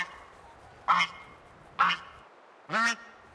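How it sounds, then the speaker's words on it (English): Geese in the video game Where Winds Meet honk three times, each call short, loud and nasal, spaced about a second apart over a quiet ambient background. "what's your business with these geese?"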